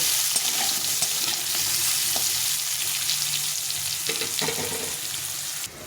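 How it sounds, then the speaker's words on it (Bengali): Pumpkin pieces frying in hot oil in a pan, a steady close sizzle with a few stirring scrapes, continuing without talk until it cuts off near the end. "কুমড়োকে আমি একটু লাল লাল করে ভেজে নেব"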